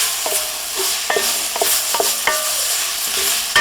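Mushrooms and mixed vegetables fry in a pan on a kamado barbecue, a constant bright sizzle broken by several quick metallic scrapes and taps of stirring.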